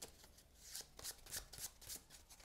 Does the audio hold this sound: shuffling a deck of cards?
yes